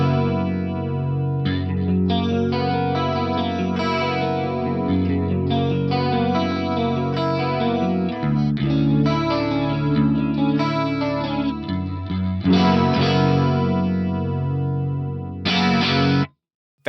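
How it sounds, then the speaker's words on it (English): An electric guitar plays chords and riffs through an Axe-Fx, its short delay time swept between about 11 and 15 milliseconds to give a shimmering chorus effect, loud and steady before cutting off abruptly at the end. "That sounds like a chorus right now, because it is. We are modulating a very short delay in there."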